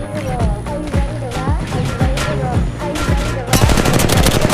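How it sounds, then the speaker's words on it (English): Rapid automatic gunfire rings out in the battle royale game Apex Legends, loud repeated bursts of shots with a dense burst of shots near the end. "Putting fire on the enemy"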